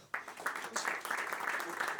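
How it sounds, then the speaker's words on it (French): An audience at a tourism medal ceremony applauds an honoree, with dense clapping starting abruptly and holding steady while voices mix in beneath it. "Je vous demande de l'applaudir."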